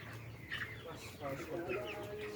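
Broiler chickens with a cold clucking close by, soft broken cackles and a raspy wheezy note, with a low murmur of voices in the background.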